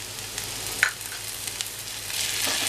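Garlic, ginger and green chili paste fry in a pan with onions for an egg and potato masala, giving a steady soft sizzle with a brief clink near the start and no talking.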